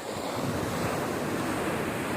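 Sea surf washing in steadily below a Spanish coastal fortress in Almería, a continuous broadband roar of waves mixed with gusty wind buffeting the microphone, no voices.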